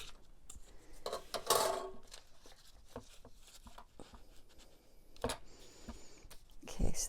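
Paper planner pages trimmed with a cutter or scissors, a few quiet scraping slices and rasps with small clicks and taps in between, close and soft.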